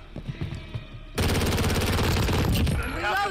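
A CX-9 submachine gun fires in Call of Duty: Modern Warfare as one sustained, loud, rapid automatic burst, starting abruptly after a moment of quieter game noise and running to the end, with a brief voice underneath.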